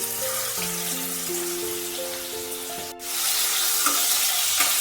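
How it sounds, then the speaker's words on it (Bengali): Prawns coated in salt and turmeric hitting hot oil in a pan, a loud close sizzle that swells and continues steadily, with background music and no speech. "এবার আমি চিংড়ি মাছগুলো তেলের মধ্যে দিয়ে দিচ্ছি।"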